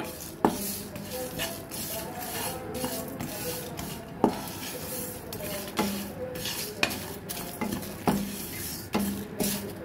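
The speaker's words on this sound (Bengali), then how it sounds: "আমি একটু চুলাটা বাড়িয়ে নিলাম, ভেজে নিচ্ছি আমি" Haleem spices dry-roasting in a pan over raised heat, with a spoon stirring and scraping against the metal in repeated sharp knocks over a steady low sizzle, close and moderately loud.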